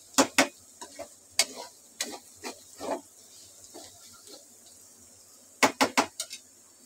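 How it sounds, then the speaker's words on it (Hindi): Potatoes being fried and stirred in a pan for aloo fry, with sharp metallic scrapes and clinks of a utensil against the pan in irregular bursts over a faint background sizzle, close and fairly loud, with no talking. "आलू फ्राई बना रही हूँ मैं"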